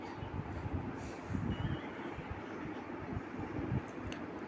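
A train in Garena Free Fire, a mobile battle-royale game. Low rumbling rail noise with rhythmic clatter, moderately faint and continuous, with a few faint beeps and no talk.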